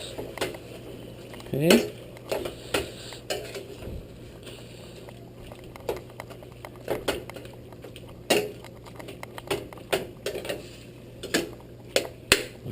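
Ground beef being stirred in a metal pan for giniling na baka: a utensil scrapes and clanks against the pan in irregular knocks and scrapes over a steady low hum, and one short word is spoken.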